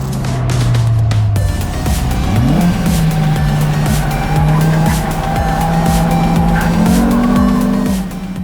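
Inside a Lemons race car on track at Pacific Raceways in 2025, a loud engine drones steadily and climbs in pitch through gear changes, with tire squeal, captured by an in-car camera and no talk.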